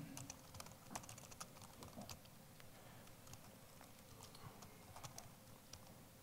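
Steady computer keyboard typing during Python coding, with dense irregular key clicks running throughout at a fairly quiet, close level, no voices.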